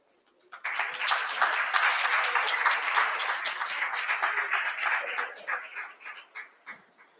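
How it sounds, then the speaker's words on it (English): A crowd at an anti-corruption day event claps for panel members, the applause swelling quickly after a brief silence, holding as a dense, fairly close patter, then tapering into scattered individual claps. "A round of applause to them, please."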